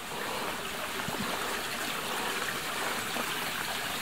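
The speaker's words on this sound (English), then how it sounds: "This is the Gombak River beginning water source." The Gombak River flows at its jungle source, a steady broadband rush of the stream over rocks, continuous and fairly close, without voices.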